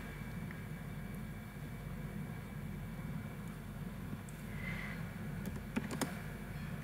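Keys tapped on a computer keyboard while typing mathematical text into Microsoft Word, faint scattered clicks with a small cluster near the end, over a steady low hum and room noise.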